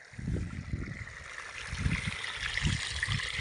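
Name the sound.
creek water flowing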